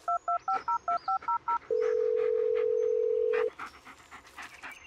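Phone dialing a call in the Blair Witch video game, a quick series of eight touch-tone beeps followed by a long steady ringback tone, with a dog panting softly underneath and afterward.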